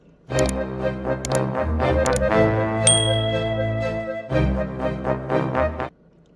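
A bright notification-bell ding rings out over a backing music bed, with a short chime accent midway before the sound cuts off.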